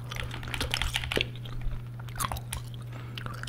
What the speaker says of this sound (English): I'm doing some random controller sounds, by the way, just to go along with some of the footage here.